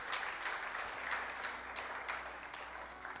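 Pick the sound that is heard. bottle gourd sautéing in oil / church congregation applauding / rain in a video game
church congregation applauding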